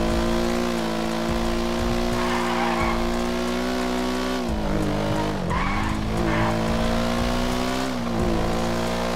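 A car in the GTA RP video game drives and skids, its steady engine drone loud and continuous, with tire squeals and sliding surges in the middle, close and alone without talk.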